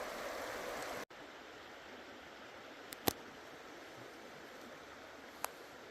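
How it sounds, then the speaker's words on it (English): Beaver Creek flowing through the Frank Church–River of No Return Wilderness in Idaho, a steady rushing hiss of moving water that drops abruptly to a quieter, continuous murmur after the first second, with a couple of faint clicks. "This is Beaver Creek, I believe."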